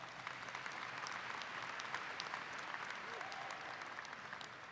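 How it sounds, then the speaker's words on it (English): Audience applause at a university commencement ceremony, a sustained even wash of clapping from a large crowd, heard from a moderate distance with no speech over it. "Let's give all of them a round of applause."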